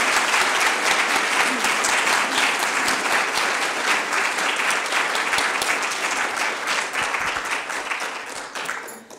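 A lecture audience breaks into sustained applause to welcome Kirsty Sword Gusmão, dense steady clapping from a large crowd that carries on for several seconds before thinning slightly at the end.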